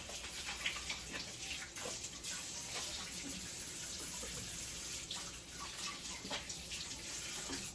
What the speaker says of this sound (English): I'm gonna give my hands a wash since I've been touching on different items in the kitchen